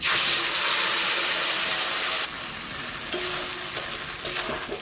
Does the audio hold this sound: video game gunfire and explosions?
no